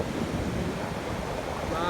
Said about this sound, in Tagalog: maalon, nakakatakot.